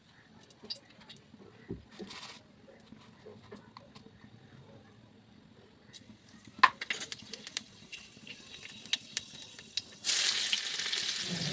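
Dried red chillies and five-spice seeds go into hot oil, with scattered clinks of pan and spoon, then a sudden loud, steady sizzle in the final seconds.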